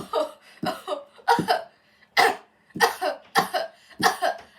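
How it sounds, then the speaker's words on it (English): A series of about eight harsh, raspy coughs in quick bursts with short pauses between them, close and loud. "I got a cough"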